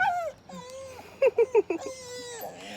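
Dog, one of a household's pair unsettled by nearby construction workers, gives a quick run of four or five high yips amid whimpery whines, close by, with a voice murmuring before and after.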